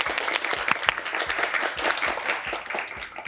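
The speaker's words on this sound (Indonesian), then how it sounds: "Yuk kita kasih tepuk tangan dulu untuk Intani Dili Melody." A crowd claps for a young Broadway singer on a stage show, dense applause with sharp individual claps ringing out at a quick uneven pace, close and fairly loud.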